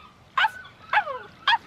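An anime puppy lets out three short, high, yipping barks, evenly spaced and close, with quiet between each.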